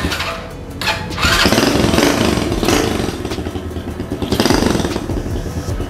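A small HSX 110 semi-automatic motorcycle engine sputters and catches, then revs up into a buzzy, rattling idle that swells and settles, close by with no talking.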